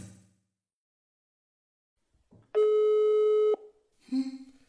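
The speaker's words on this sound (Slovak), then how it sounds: "Zvoní to." A single sustained electronic tone of about a second from a telephone line during a call, alone and fairly loud, with brief speech-like sounds just before and after it.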